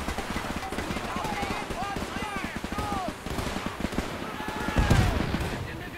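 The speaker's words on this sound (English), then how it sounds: "Looks like my mortar's trying to take out that MG" Mortar fire aimed at a machine gun nest during a battle in Men of War 2, a busy stream of distant rapid gunfire and thumps with a heavier blast near the end.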